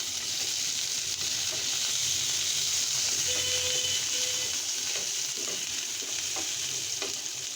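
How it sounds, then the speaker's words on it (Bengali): Onion and garlic frying in a pan for a stir-fry of bottle gourd peel and potato, a steady close hissing sizzle throughout with occasional light stirring taps, no one speaking. "পেঁয়াজ রসুন ভাজা ভাজা করবো একটু"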